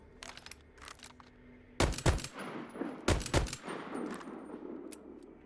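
Weapon fire in the video game Void Train, with a few separate shots early on, then two loud, close bursts of rapid dual-fire shots, each followed by a decaying rumbling tail.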